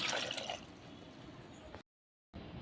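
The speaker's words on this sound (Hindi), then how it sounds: "अब इसमें हम आलू को डाल देंगे और इसमें हम पानी को डाल लेंगे।" Water pours into a pressure cooker holding chopped jackfruit and potatoes, a steady close liquid rush that runs continuously before a brief cut of silence, then resumes.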